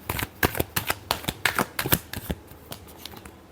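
Tarot cards are shuffled by hand in a quick run of about a dozen crisp, sharp slaps and riffles that thin out toward the end, close and clear with no talk.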